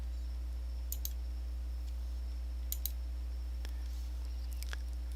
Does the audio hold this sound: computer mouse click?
yes